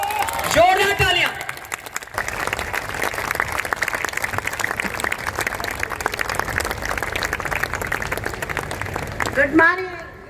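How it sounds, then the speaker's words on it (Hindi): An audience applauds in a dense, sustained wave of clapping that fills the middle of the clip, with a person speaking into a microphone briefly at the start and again at the end. "जोरदार तालियां"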